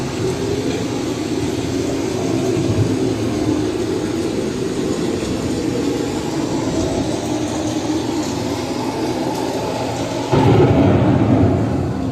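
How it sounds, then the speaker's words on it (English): Thunder from an approaching storm, a long, deep, continuous rumble rolling on at moderate loudness, with a louder burst near the end. "The approaching storm may seem violent and destructive to us"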